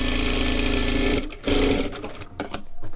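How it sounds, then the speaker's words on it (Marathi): Sewing machine running steadily while double-stitching a blouse seam, a loud continuous mechanical whir that stops briefly, restarts, then continues in shorter uneven bursts. "वाटलंच तर डबल शिलाई मारून घ्या."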